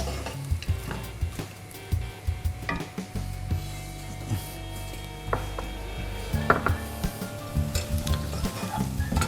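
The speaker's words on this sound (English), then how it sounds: "Now the onions in the pan, just going to keep cooking them until they become soft." Onions cooking in a pan for wild boar sandwiches, a continuous sizzle broken by scraping stirs and clattering knocks of a utensil against the pan, close and busy without speech.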